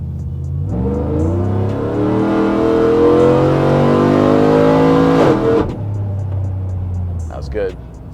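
A supercharged, BTR 220-cammed 2014 GMC Sierra 5.3 V8 pickup accelerates hard from the cabin, its engine note climbing steadily in pitch before a shift drops the revs around the five-second mark; loud and continuous, with no talking.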